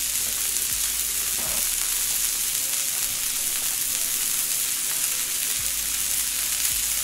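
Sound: onions and peppers sizzling while frying

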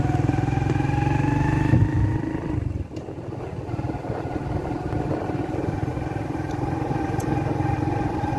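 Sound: motorcycle starting off and riding

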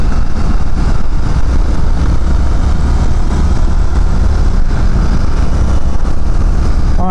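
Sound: Indian FTR 1200 S motorcycle engine riding

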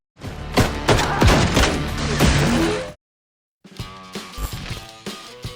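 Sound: gunfire shooting

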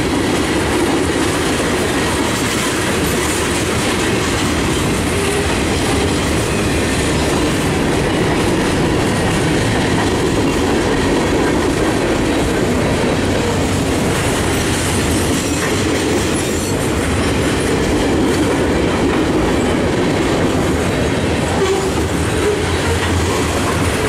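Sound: train passing on tracks

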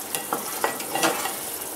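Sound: milk cream sizzling on medium flame as ghee forms

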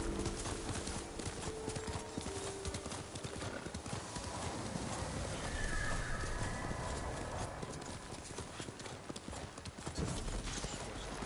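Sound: horse galloping in a video game

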